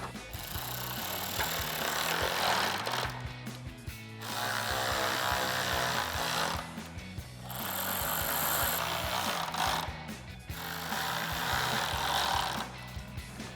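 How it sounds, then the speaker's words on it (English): Power tool driving four screws into a third brake light on a 2019-2026 Silverado 1500 pickup, sounding as several steady whirring runs with brief pauses between them, close and loud. "So now we're just gonna thread in our 4 screws."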